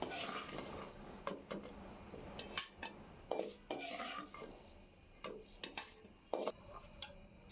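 A spoon scrapes and clinks against a kadai and bowl as fried urad dal is moved into another bowl, producing a string of quick metallic taps and scrapes close by, with no talking.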